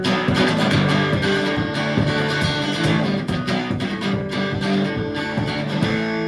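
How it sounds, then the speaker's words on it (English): Steady guitar strumming layered over a busy percussive beat, dense and continuous throughout, with no voices. "I'm strumming out something. I'm also playing some beats."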